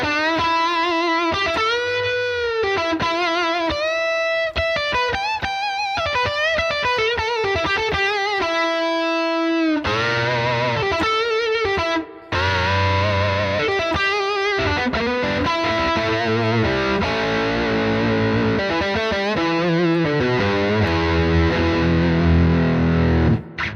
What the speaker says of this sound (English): you can just go through the spring reverbs and choose the one that you like the best